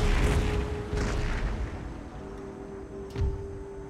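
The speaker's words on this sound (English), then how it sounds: "Let our artillery do some work." Artillery bombardment in the Empire: Total War strategy game, with a dense rumble of low booms and scattered thuds throughout, plus a sharper distant blast near the end, under a steady tonal hum.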